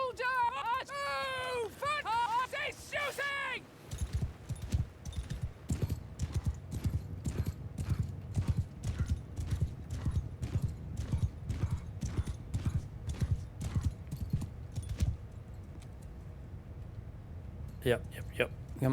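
Horses galloping across a Mount & Blade II Bannerlord video game battlefield, a loud dense rhythmic clatter of hooves after a brief burst of voices and a whinny at the start.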